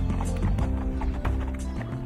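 Horses trotting along a towpath beside the Rance river in Brittany, a steady clip-clop of hooves running throughout, fairly close and loud over outdoor background noise, with no talk.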